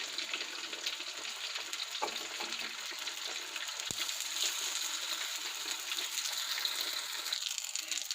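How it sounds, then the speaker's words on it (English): Aloo tikki patties fry in oil in a frying pan, giving a steady, bright sizzle with soft crackles and occasional small pops, moderately close and continuous with no talk. "here my tikkis are cooking in the frying pan, and I added oil"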